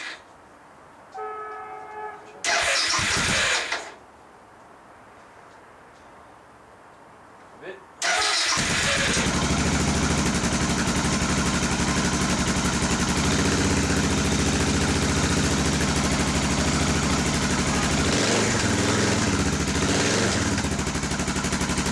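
A Suzuki DR650 motorcycle with its choke on is started cold: a short crank burst, a pause with a faint voice, then the engine catches and settles into a loud, steady idle that runs to the end.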